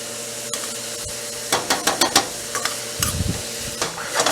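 Ratatouille vegetables sizzle in a pan while a utensil clacks and scrapes in quick bursts of stirring, close and without voices.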